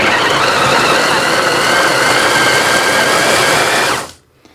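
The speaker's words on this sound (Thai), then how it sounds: "เดี๋ยวน้องลองกดนะคะ ปั่น อ่ะปั่นได้นะคะ ได้อยู่ เขาจะมี สองชั้นใบพัด" An electric blender with two layers of blades runs loudly and steadily for about four seconds, a constant whirring motor drone that cuts off abruptly at the end.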